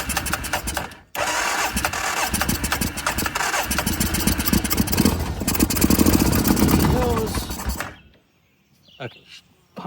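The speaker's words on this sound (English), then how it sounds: "Give her a little boost this time with the battery and the jump pack." An ATV engine cranks and catches with help from a battery jump pack, then runs loud and rough for several seconds before cutting out, followed by brief voices nearby.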